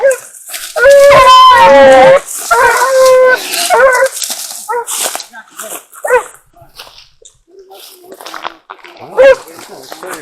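A tracking dog searching for a deer's blood trail bays in long howls, then whimpers and yips in short bursts, close and loud, with people talking intermittently.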